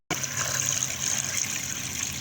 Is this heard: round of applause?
no